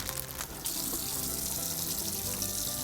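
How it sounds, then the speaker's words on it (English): Tap water running into a sink while fresh cilantro is washed, a steady close hiss of flowing water that thickens after a short splashy start, with no speech. "Oh wait, I have to wash my cilantro."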